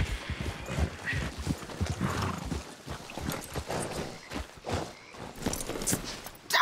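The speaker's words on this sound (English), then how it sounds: "Damn horse, acting up on me, of all the times." Hooves clip-clop from a horse acting up in Red Dead Redemption 2, with scattered snorts and shuffling steps over a busy game soundscape at steady moderate loudness.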